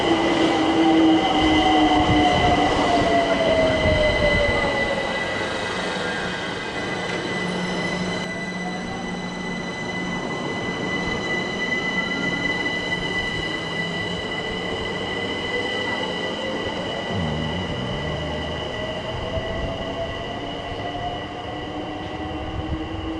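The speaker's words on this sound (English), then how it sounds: "Freight train coming through from Dagenham to Acton" A freight train hauled by class 66 locomotive 66015 rumbles past West Hampstead station steadily with high, sustained wheel squeals and shifting metallic tones, loud and continuous throughout.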